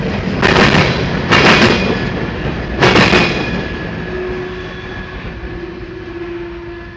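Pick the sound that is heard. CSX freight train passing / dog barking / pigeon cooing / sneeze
CSX freight train passing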